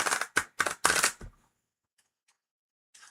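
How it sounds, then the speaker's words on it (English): Tarot cards are shuffled close up in several quick, crisp riffling bursts, followed by near silence and a last brief rustle. "Some more shuffling."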